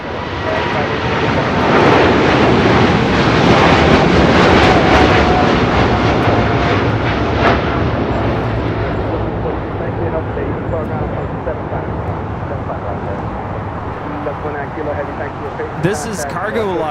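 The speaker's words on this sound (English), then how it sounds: "This is Cargo Lux 19 Kilo taking off to Luxembourg on a 747-8 freighter." A Cargolux Boeing 747-8 freighter departs LAX for Luxembourg, its jet engines building to a loud, dense roar that peaks early and slowly recedes, with voices talking over the noise.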